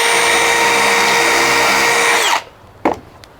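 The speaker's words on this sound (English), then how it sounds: "Drill in like so." Power drill boring a hole through decking with a Kreg deck jig, a loud steady whine lasting over two seconds that stops abruptly, followed by a couple of quiet clicks from the tool.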